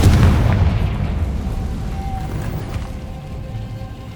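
A Confringo spell explodes in the game Hogwarts Legacy. The loud deep boom bursts at once and then fades into a long rumbling tail, with no voice over it.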